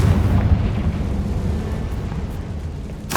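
A Confringo fire spell blasts in Hogwarts Legacy, producing a sustained low, rumbling explosion that trails off, then a sharp burst at the very end.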